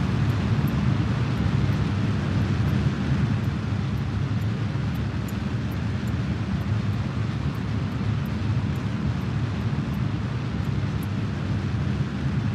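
A rocket engine igniting and burning in the Kerbal Space Program video game, a loud, steady broadband roar that holds evenly throughout with no talking.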